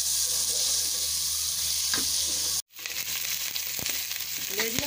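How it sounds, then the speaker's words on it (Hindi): Mutton liver and onions fry in a pan with a steady loud sizzle, broken by scraping stirs and a brief cut to silence midway before the frying resumes. "कलेजी हमारी भुन चुकी है"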